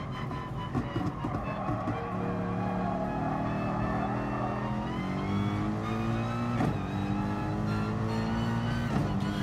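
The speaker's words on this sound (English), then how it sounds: "Now, rev it out of second, because you want to come out of second with the most power." In the Gran Turismo Sport racing game, a race car engine revs hard and climbs in pitch, with clear gear shifts breaking the rising whine every couple of seconds, loud and close throughout.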